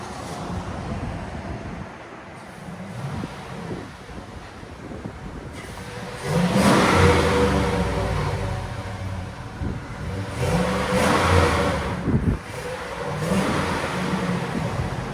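A stock 2005 GMC Sierra with a 5.3L V8 on its factory exhaust idles with a low rumble, then revs up in several loud surges and drops back, with some wind noise on the microphone.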